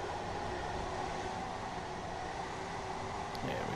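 A train rolls steadily in Train Sim World 3 on the Three Bridges to London Victoria route, giving a constant rumbling rail drone with wheel noise throughout, no talk over it.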